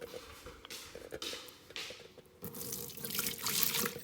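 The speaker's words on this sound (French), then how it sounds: "Et je vide l'excédent d'eau." Excess water pours and splashes from a Thermomix steaming basket into a sink, with intermittent gushes, then a louder continuous rush of running water toward the end, close and moderately loud.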